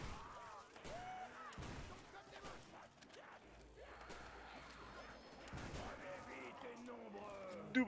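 A double-barrel shotgun in a video game booms several times in bursts, with excited voices talking over the shots.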